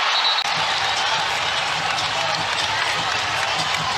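A basketball arena crowd roars loud and steady during a Kentucky vs West Virginia women's college basketball game, a dense, unbroken wash of cheering and noise throughout.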